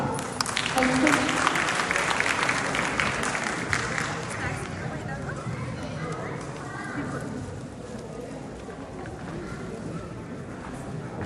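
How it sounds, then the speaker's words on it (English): Audience applause follows a skit performance, a full, continuous round of clapping mixed with some crowd murmur that gradually thins and quiets over several seconds. "Can you all please encourage them by a round of applause?"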